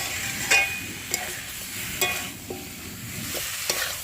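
Cut beans and vegetables with coriander powder frying in a pan, a soft steady sizzle broken by a few sharp scrapes and clinks of a spatula stirring, close and fairly quiet.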